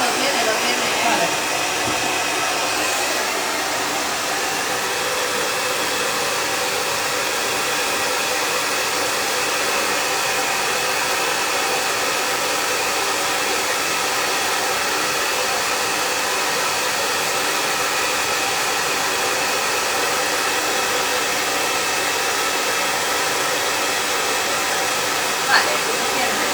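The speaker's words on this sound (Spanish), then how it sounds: "La potencia del secador que tiene." A powerful pet hair dryer blows a continuous, loud, even roar at close range while a medium show poodle is being groomed, with no other sounds breaking through the steady rush of air.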